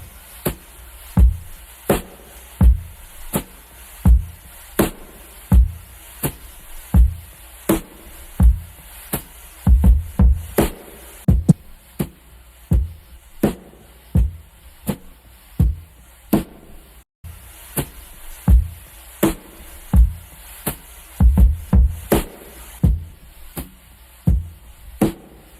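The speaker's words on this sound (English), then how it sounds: "the final drum break with the full mix version and the alternate mix versions are gonna sound like this" Drum break played with brushes on a coated drum head, in a full mix. A steady, looping groove of punchy kick and snare hits runs throughout, with soft brushed swishes between the strikes and no talk.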